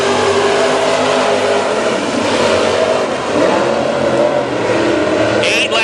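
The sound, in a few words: Super Stock race cars accelerating at green flag start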